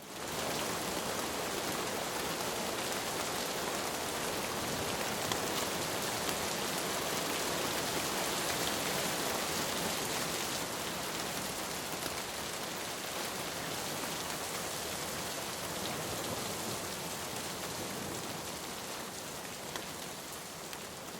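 Steady rain patters continuously on a taut tarp shelter at a September wilderness camp on a fell highland, a dense even hiss of drops with no voices, holding for the whole stretch.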